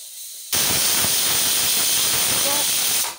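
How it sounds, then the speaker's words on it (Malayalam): A kitchen pressure cooker lets off its whistle, a loud, sustained steady hiss of escaping steam that bursts in suddenly and holds for nearly three seconds before cutting off. "ഒരു വിസിൽ വന്ന് ഓഫ് ചെയ്യുകയാണ്"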